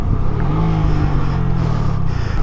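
Honda Grom motorcycle on the Pacific Coast Highway toward Cayucos accelerating, with a loud, close engine drone rising in pitch over heavy wind rumble.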